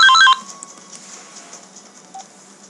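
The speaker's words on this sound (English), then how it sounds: "Oh my goodness, my phone is ringing." A mobile phone's electronic ringtone gives a quick burst of bright beeping tones right at the start, then cuts off into near silence with only a faint later blip.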